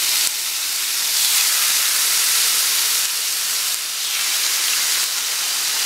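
Beef steak sizzles in a little oil in a small pan, a loud, close, continuous hiss that stays fairly even with slight dips in intensity.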